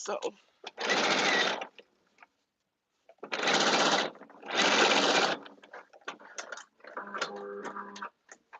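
A sewing machine runs an understitch along the facing of a caftan in several short bursts of rapid stitching separated by pauses, clear and close, with a softer mechanical clatter near the end.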